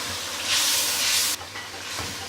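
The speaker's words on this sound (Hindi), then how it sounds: "आगे अब हम इसमें गोश्त डालेंगे।" Mutton is added to a hot karahi with yogurt and oil, setting off a loud, close hiss and sizzle that swells for about a second, then drops to a steady, softer frying crackle.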